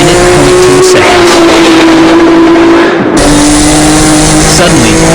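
Racing cars run on a circuit in a Best Motoring test session, with one car running narrow tires and a mismatched gear ratio; a loud, steady engine drone holds throughout, other cars pass nearby, and a narrator talks over it.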